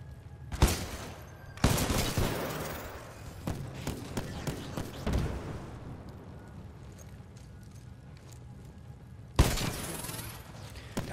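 Titanfall 2 gunfire comes in sharp, loud shots at irregular intervals, a few heavy blasts standing out among scattered lighter pops over low rumbling game ambience.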